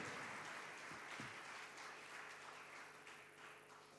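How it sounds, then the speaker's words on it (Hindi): Congregation applause welcoming guests during a Thanksgiving Holy Mass, a steady, moderately distant wash of clapping that carries on for the whole stretch, with faint hum underneath. "हम भरपूर तालियों में इनको अपने दरमियान खुशामदीद कहते हैं।"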